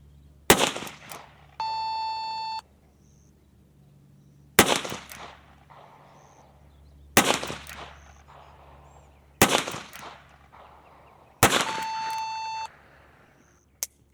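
Revolver shots cracking out in a bullseye pistol competition on a firing line, five sharp reports spaced about two to three seconds apart, each with a short echoing tail, with electronic beeps from a timer or target system between some shots.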